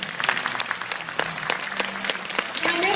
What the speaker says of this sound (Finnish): Annetaan vielä delfiineille isot aplodit.